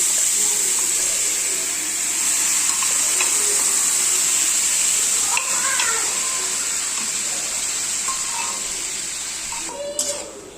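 Shredded cabbage hits hot oil in a kadai over melted tomatoes for a vegetarian cabbage, potato and pea ghonto, giving a steady close sizzle with occasional stirring clinks and scrapes.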